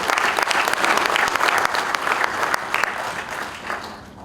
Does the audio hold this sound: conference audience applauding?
yes